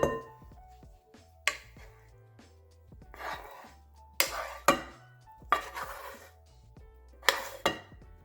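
Black bean veggie burger mixture being stirred in a bowl, a spoon clinking and scraping against the sides in several separate bursts, close and moderately loud, with quiet pauses between strokes.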